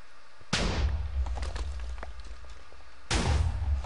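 Two loud creeper explosions go off in the Minecraft video game, about two and a half seconds apart. Each is a sharp, booming burst that decays into rumbling game noise.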